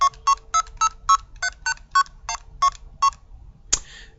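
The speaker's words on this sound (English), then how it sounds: "the blue box plays MF tones, which are signaling tones. So here are those sounds." A blue box sends MF signaling tones: about a dozen short, evenly spaced tone pairs beep in quick succession, then a sharp higher chirp closes the sequence, clear and close against quiet hiss.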